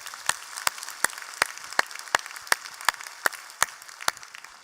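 A church congregation claps to welcome twenty new members, the applause thin and scattered with distinct individual claps spaced fairly evenly, no voices over it.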